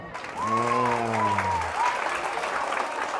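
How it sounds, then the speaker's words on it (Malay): An audience at a farewell and Ramadan-welcome gathering at an Islamic boarding school bursts into applause, a sustained crowd clapping that starts at once and carries on, with a voice calling out over it near the start. "Pandai, berikan tepuk tangan."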